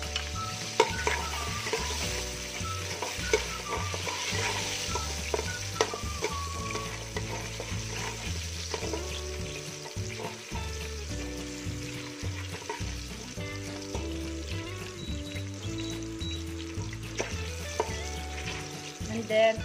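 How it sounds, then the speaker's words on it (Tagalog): Garlic sautés in a pan for a Filipino patatim dish, a continuous sizzle and stirring under background music that plays throughout, with no one talking. "So, mag-isa na po tayo ng saute the garlic."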